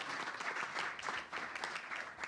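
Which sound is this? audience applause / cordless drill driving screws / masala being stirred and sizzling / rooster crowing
audience applause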